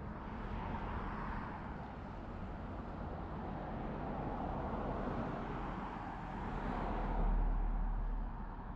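Steady broadband road traffic rumble in Zion National Park, Utah, a continuous wash of passing vehicles heard nearby with no talk, swelling slightly louder near the end.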